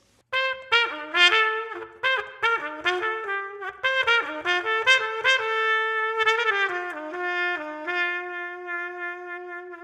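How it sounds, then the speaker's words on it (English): A trumpet with a straight mute plays a lively phrase of short, bright, buzzy notes that settles into longer held tones, close and clear with no voices. "Straight mute sounds like this."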